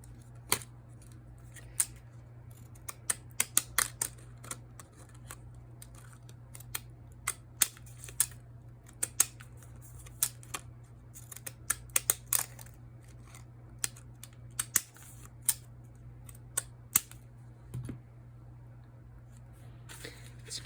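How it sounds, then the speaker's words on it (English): Quiet, crisp snips of Fiskars decorative edge scissors cutting paper, in short irregular clusters of clicks over a faint steady hum, with no talking. "And using my Fiskars decorative edge scissors."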